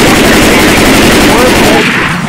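Rapid bursts of gunfire from the zombie shooter Left 4 Dead 2 fill the short stretch, loud and continuous with chaotic game noise beneath.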